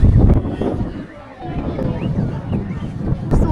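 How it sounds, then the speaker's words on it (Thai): Strong seaside wind buffets the microphone on the coast of Qingdao in autumn, a loud continuous roar with gusty surges under a person talking nearby. "ลมมันแรงมากจริงๆ"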